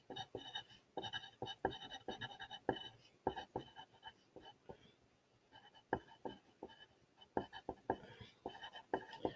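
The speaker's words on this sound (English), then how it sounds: "We are writing that on our notes" Pencil scratching on paper as notes are written during an online grade-five literature lesson, a steady run of short strokes broken by brief pauses, close and quiet, no talking.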